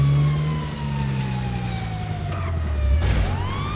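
Police sirens wail in the video game GTA V, loud and close. Several rising and falling tones overlap over a low vehicle rumble.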